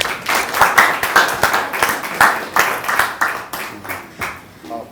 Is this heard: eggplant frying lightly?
no